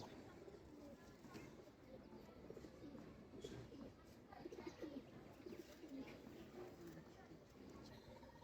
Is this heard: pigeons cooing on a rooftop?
yes